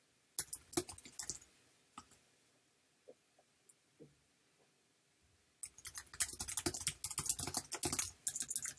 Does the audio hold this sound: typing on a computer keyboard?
yes